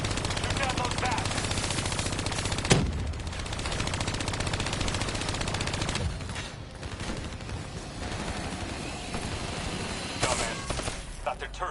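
Rapid automatic gunfire rattles almost nonstop from a PS4 shooter game, with dense bursts and a few louder blasts layered over game music and effects, aimed at swarming bats.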